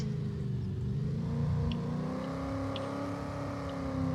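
A ute engine in Farming Simulator 25 revs with a steady, loud motor drone whose tone climbs slowly. Brief faint clicks sit on top, and no one talks.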